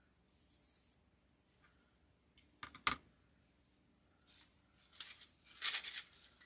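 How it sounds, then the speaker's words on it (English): Dull scissors cutting paper for a simple everyday wall basket, heard as a few faint, scattered rasping snips and tearing crunches, with a louder cluster near the end, close to the microphone and with no talk. "Those scissors need to be sharpened."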